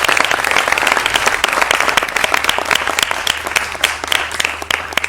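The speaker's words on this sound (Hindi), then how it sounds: "इतनी तालियां किसी के लिए नहीं बजी अभी तक" A large audience at a show gives a guest a loud, sustained welcome of applause, thick, fast clapping that stays strong for about five seconds with crowd noise mixed in.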